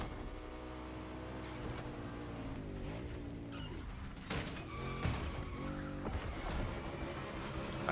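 A Ferrari Roma drives in the racing game The Crew Motorfest, its engine note rising and falling through gear changes with brief tire squeals, steady and moderately loud with no talk.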